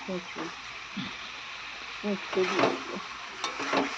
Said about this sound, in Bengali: মাংসগুলো সব দিয়ে দিয়েছি, এবার কষা হবে